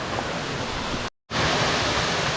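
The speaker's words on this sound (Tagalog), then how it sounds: "Here we are at Manggahan Falls." Manggahan Falls on Mt. Sembrano in the Philippines roars as a steady, loud, broadband rush of falling water, cut by a brief silent gap.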